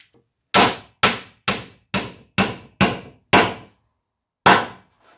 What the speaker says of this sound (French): Et donc on continue de mettre des petits clous jusqu'au bout.